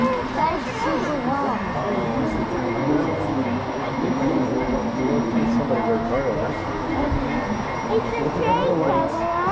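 A Burlington Northern freight train rolls past with a steady, loud rumble and wheel noise, while people talk over it throughout.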